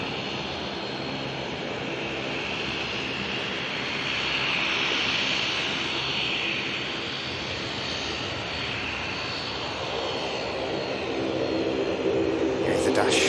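The engines of an Airbus A320neo airliner drone steadily at an airport, a loud continuous roar that builds slightly midway, with a voice talking over it.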